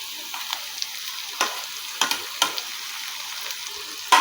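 Tomatoes frying with onions in a pan as they are stirred: a steady close sizzle with scraping spoon strokes, several sharper stirring scrapes, and no talk.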